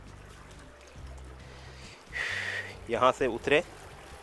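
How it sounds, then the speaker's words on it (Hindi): Water flows through a falaj irrigation canal at the Al Ain Oasis, a continuous soft rushing wash beneath the scene, while someone speaks briefly near the end. "ये पूरा देखिए कनाल से पानी आ रहा है, ये इस तरफ जा रहा है"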